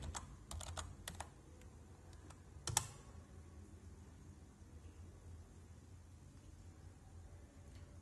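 A login password typed on a computer keyboard for a Raspberry Pi, a few quick clicky keystrokes in a short burst ending with a firmer press, then quiet room noise.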